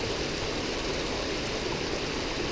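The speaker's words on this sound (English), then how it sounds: "Nobody told me I was going to be walking up a waterfall today." A mountain waterfall and stream tumble over rocks in a steady, loud, broadband rush with no break, heard up close in a high alpine setting in the Wind River Range.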